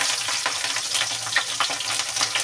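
Chili frying in hot oil with cumin seeds and bay leaf, a loud, continuous crackling sizzle close up with no voices.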